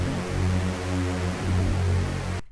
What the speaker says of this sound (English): We're going to add in a little bit of white noise